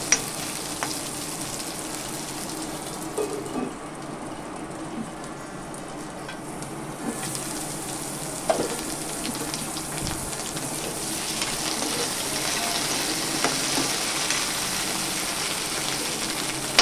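Potatoes sauté in a pan for a jackfruit bhaji, giving a steady, soft sizzle and frying hiss with occasional stirring scrapes throughout, close and fairly quiet, with no voices.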